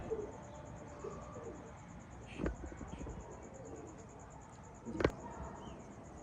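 Teddy pigeons from Dubai cooing softly in a coop, low murmuring coos over a faint background hiss with a steady high whine, broken by two brief sharp clatters.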